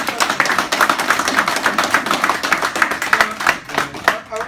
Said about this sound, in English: go ahead, give him a clap